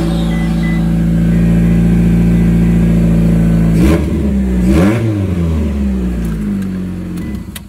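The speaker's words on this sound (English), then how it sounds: "but the exhaust started leaking" An old beater car idles loudly with a leaking exhaust ahead of the catalytic converter, giving a rough, droning rumble, then revs up and drops back twice before settling near the end.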